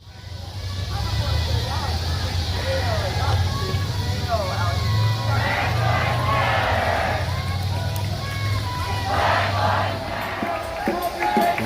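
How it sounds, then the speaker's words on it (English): Neighborhood residents cheer a marching protest crowd as it passes a mayor's house, a steady crowd roar with shouts rising over a constant low engine drone, while someone talks over it. "The people in the neighborhood are cheering on the crowd as they go by."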